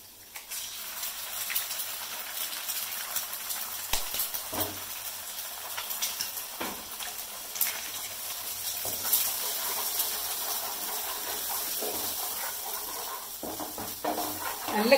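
Two eggs cooking in a hot pan for cauliflower egg podimas, giving a steady hiss and crackle of frying that runs throughout, with occasional louder scraping bursts as they are stirred, close and fairly loud.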